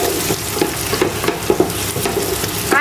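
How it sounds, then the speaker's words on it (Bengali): Onions frying in oil in a pan, a steady close sizzle with periodic stirring scrapes and clinks throughout, no talking. "ওই তেলে পেঁয়াজ দিয়ে দিছি, তা পেঁয়াজ তার একটু ভাজা হবে"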